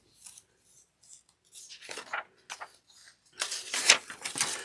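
Scissors snip repeatedly through fabric beside the stitching of a sewn bag, trimming the seam allowance at an angle; several short, close cuts come in irregular bursts, growing louder and denser toward the end, with no talk.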